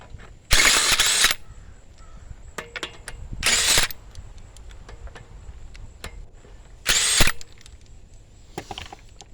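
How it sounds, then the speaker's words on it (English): Three short bursts from a power tool spin lug nuts off a 2003 Ford Mustang wheel, each loud and close, separated by quiet gaps with small clinks and handling noises. "Get the rest of these lug nuts off of here."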